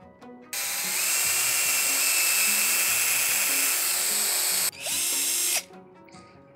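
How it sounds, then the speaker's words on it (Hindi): A power drill bores a hole through a wooden guitar neck, a loud steady high whine running nearly four seconds, briefly dropping, then revving again for a shorter burst before stopping. "उस स्क्रू को लगाने से पहले हम नेक में और इस पीस में एक होल कर लेते हैं।"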